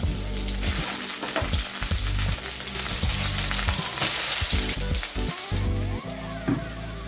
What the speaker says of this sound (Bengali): জলগুলো ঝরিয়ে চিপে এইভাবে আমি ভেজে নেব